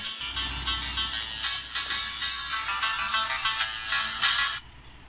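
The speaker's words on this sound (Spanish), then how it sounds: "me estaba sonando aquí el teléfono un momento y voy a desactivar el sonido" A mobile phone ringtone chimes continuously for about four seconds, a bright repeating electronic melody heard close up, before cutting off abruptly.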